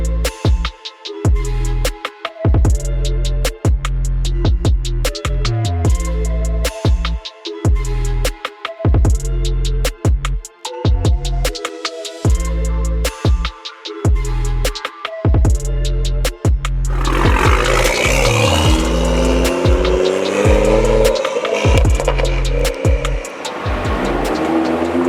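Loud Toyota Supra driving away from Hyperfest, engine roaring through repeated revs and gear changes with sharp pops, close and dominant, swelling into a sustained rising roar near the end.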